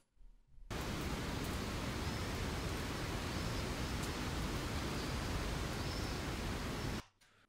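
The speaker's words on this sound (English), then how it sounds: "the moment we press play, we should hear the wind in our world" Steady wind ambience sound effect playing in an Unreal Engine game world through FMOD: a continuous, even broadband hiss that starts abruptly, holds at constant loudness for about six seconds, then cuts off, with no voices.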